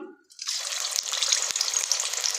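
Seekh kebabs dropped into hot oil for shallow frying burst into a loud, close, steady sizzle after a brief quiet moment, with small crackles throughout.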